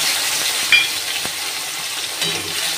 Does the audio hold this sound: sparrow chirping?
no